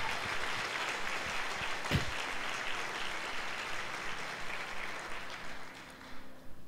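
A church congregation claps during a Sunday service, a broad wash of applause that stays fairly even, with one sharp knock near the middle, then thins slightly toward the end.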